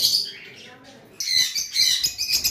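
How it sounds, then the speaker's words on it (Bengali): A male pet bird for sale calls in bright, close chirps and squawks, softer at first and then louder in quick bursts, with no speech. "এখানে একটা অফলাইনের পাখি রয়েছে। এই পাখিটা আসলে দেখাইতে মিসিং হয়ে গিয়েছিল। এটা একটা মেল পাখি হবে।"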